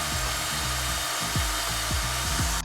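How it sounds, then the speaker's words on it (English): A power drill fitted with a wire brush grinds continuously against a BMW brake hub during a rotor replacement, its pitch repeatedly dipping under load in a rough, steady scrubbing whine, close and loud with no speech. "take a wire brush or drill to the hub."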